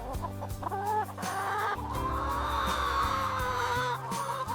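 Native-breed farm hens clucking steadily close by, several birds overlapping in short repeated calls over a continuous background, with no speech.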